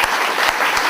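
Audience applause for Brother Israel at a ritual-themed gathering, loud dense clapping close by, continuous for the whole second.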